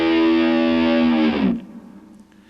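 A distorted electric guitar holding a very high harmonic, sustained bright and loud, then raised with the tremolo bar so the pitch sweeps before abruptly cutting off into quiet noise.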